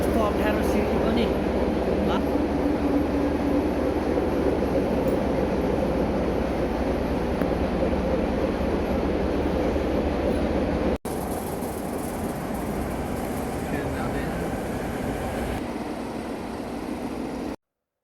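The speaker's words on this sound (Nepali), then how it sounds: "ट्रेन स्टेसनमा आयो फाइनल्ली" A train pulls into a station on a journey from Romania to Spain, its steady loud rumble and rail noise filling the scene throughout, with a brief break partway through and voices faintly underneath.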